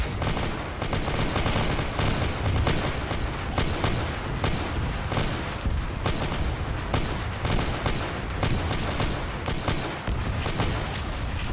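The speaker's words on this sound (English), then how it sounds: "some of this fire is also a bunch of dynamic turrets I have around" Dynamic turrets firing in a Warhammer 40k game, a relentless barrage of sharp gunshots and heavy booms overlapping in rapid, irregular bursts, loud and close for the whole stretch, with no speech.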